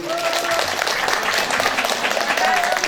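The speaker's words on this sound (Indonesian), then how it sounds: "beri tepuk tangan dulu" An audience at an Islamic religious lecture gives a steady round of clapping, heard close and fairly loud, with a voice talking over it.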